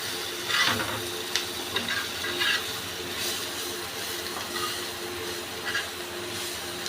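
Bottle gourd peel frying in a pan on a home stove: a steady, close hiss and sizzle that runs the whole time, with a few brief louder crackles and no talking.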